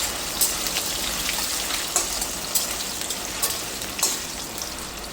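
Potatoes frying in hot oil with a pinch of asafoetida in a pan, a dense steady sizzle like rain on a surface, dotted with sharper pops and crackles, close and unaccompanied by voices.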